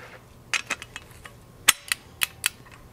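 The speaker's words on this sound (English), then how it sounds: "you can still hear it go click, click, click really well" Sharp metallic clicks of a torque wrench during a pulley seal replacement, a pair, a single, then several quick clicks in close succession, crisp and near.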